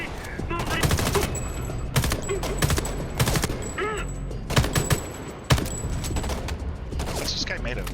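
Gunfire in the shooter game Homefront, dense rapid bursts and single loud shots crackling close in repeated clusters over steady background noise.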